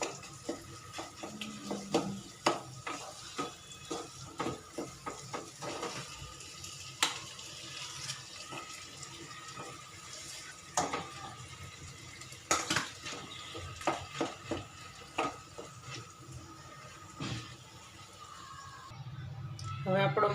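A spoon stirs spicy potato filling for samosas in a pan with garam masala, producing irregular clinks, taps and scrapes against the metal at close range over a quiet background.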